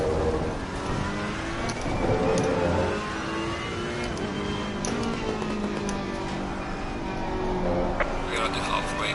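A Porsche race car in Assetto Corsa Competizione on the Laguna Seca circuit screams continuously up close, its engine pitch climbing and dropping through gear changes, with other cars faintly audible around it.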